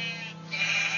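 A sheep in the video game Minecraft gives a single short, close bleat.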